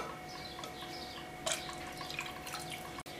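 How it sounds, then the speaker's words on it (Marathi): Water trickles and drips into a bowl of curd, a soft, close, continuous pouring sound with a few brighter splashes. "आता मी एक वाटी दह्याला दीड गल्लास पाणी घातलंय."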